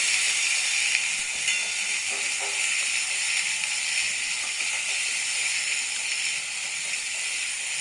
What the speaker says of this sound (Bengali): এবার ফোড়নের সঙ্গে পুঁই মিটুলিটাকে কিছুক্ষণ নেড়ে চেড়ে ভেজে নেব